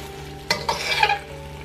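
Filipino longanisa sausage sizzles in a pan over a low, steady crackle, broken by a few quick scraping swirls of stirring close by.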